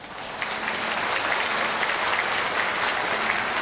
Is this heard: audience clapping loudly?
yes